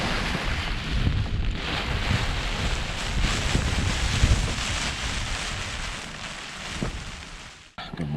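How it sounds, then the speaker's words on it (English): Wind buffets around a tent set up in the rain, with the wash of nearby water underneath, a constant rushing texture that drops out briefly near the end. "A little bit of wind and a bit of water in the background."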